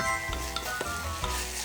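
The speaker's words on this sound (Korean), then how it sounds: "이렇게 지금 볶아지는 소리 들리시죠?" Sesame oil sizzles steadily in a pan as ingredients are stir-fried, with soft scraping stirs and light utensil taps over a continuous close frying hiss.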